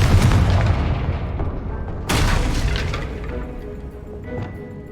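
A Confringo fire spell in the Hogwarts Legacy video game bursts with a sudden loud blast partway through, rising over a dense, rumbling game soundscape that slowly fades afterward.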